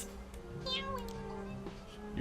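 A cat lets out loud, drawn-out screaming meows, one after another in quick succession, close to the listener, with a person talking softly in the background.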